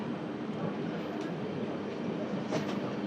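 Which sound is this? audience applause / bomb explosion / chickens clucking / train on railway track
train on railway track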